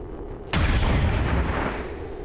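A single loud gunshot from a soldier's rifle in the turn-based strategy game XCOM 2, a sharp crack followed by a long booming decay that rings out for nearly two seconds, heard alone with no talk over it.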